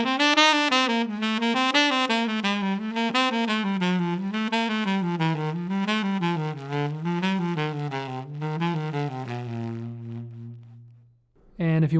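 A jazz articulation exercise played as a continuous melodic line on a single wind-like instrument, with slurred and tongued notes flowing steadily for about eleven seconds before ending on a held low note, loud and close with no talking.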